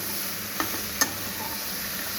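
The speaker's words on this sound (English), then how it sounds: "And this I'm going to saute for around, say, 5 to 6 minutes, not more than that." Mixed seasonal vegetables sauteing in a pan with very little oil give a steady soft sizzle, with two brief clinks of stirring near the middle.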